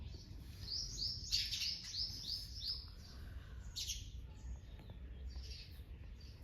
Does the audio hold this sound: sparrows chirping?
yes